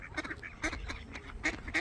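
A mother swan guarding her cygnets in a garden gives a run of short, harsh, honking calls in quick succession, fairly close, with no talk.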